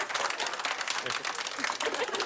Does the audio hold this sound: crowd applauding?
yes